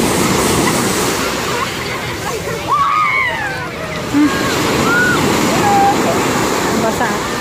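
Continuous roar of ocean waves breaking on the shore at Repulse Bay beach, Hong Kong, loud and close, with brief voices and whistly sounds cutting through in places.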